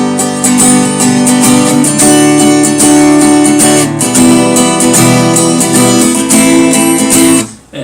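An acoustic guitar strums the rhythm pattern of "My Life Is In You, Lord" in steady, bright chords, played close and alone before the strings are stopped abruptly at the end.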